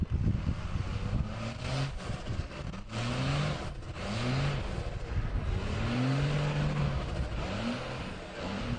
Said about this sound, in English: You can hear a little bit of the turbo blowing off there.